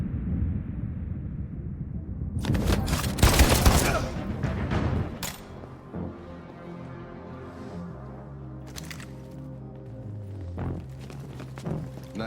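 Gunfire in Detroit: Become Human comes as a loud, rapid cluster of sharp shots in the first few seconds. Quieter scattered impacts and a low tonal score follow.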